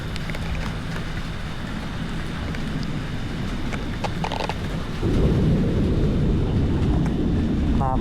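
Steady heavy rain from a thunderstorm in Sakon Nakhon, Thailand, roars throughout, growing louder partway through, with a deep rumble underneath like distant thunder.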